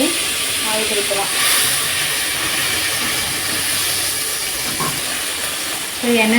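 A steady, loud hiss of oil heating in a pan for dried fish curry, continuous sizzling broadband noise with faint background sounds.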